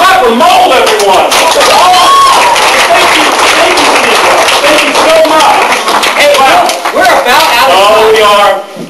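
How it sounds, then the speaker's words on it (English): Pub audience at a comedy night clapping and cheering loudly and close, a dense burst of hand claps with shouting voices mixed in before it thins out at the end. "Let's clap for mold, everyone!"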